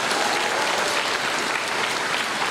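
A school audience gives a big round of applause for kindergarten Cultural Arts Award winners at an elementary school recognition day, thick continuous clapping from many people, loud and steady.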